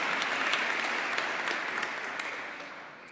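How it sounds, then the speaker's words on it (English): Graduation ceremony audience at a December commencement applauds the graduating seniors, a dense, even clapping from a large crowd that gradually fades toward the end. "So let us applaud all of the graduating seniors from Open Academy."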